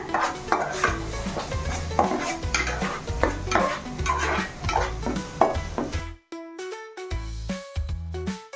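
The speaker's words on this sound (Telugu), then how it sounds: "కొబ్బరి పేస్ట్ వేసుకున్నాక కలుపుకోండి ఫ్రెండ్స్ ఇలాగా" A spoon stirs fish curry in a pan after coconut paste goes in, scraping and clinking against the metal in steady rhythmic strokes over a soft sizzle, close and loud.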